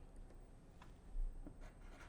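Faint, close scratching of a pencil writing a number on a paper worksheet, a few soft strokes over a quiet room.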